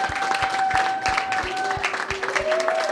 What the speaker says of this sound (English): A big round of applause for the chairman